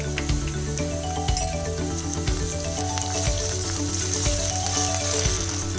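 Onion and ginger garlic paste sizzling in a hot pan, a continuous close crackling fry with light metallic clinks of stirring now and then.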